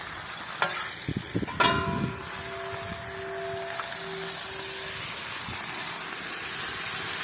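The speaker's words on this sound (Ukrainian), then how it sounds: "Ох, як все шкварчить." Potatoes sizzle and crackle steadily in a hot pan made from a harrow disc after a few clinks and stirring knocks, the frying hiss continuing alone.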